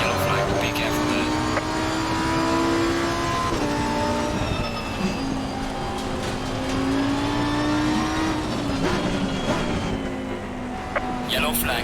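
Race car engines in Assetto Corsa Competizione at Misano drone steadily and loudly throughout, their pitch rising and falling through gear changes as several cars run close together, with a commentator talking over them.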